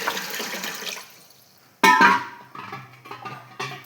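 Water splashes and pours briefly into a rice cooker holding rice, with a sudden gush followed by softer trickling and a few light clinks.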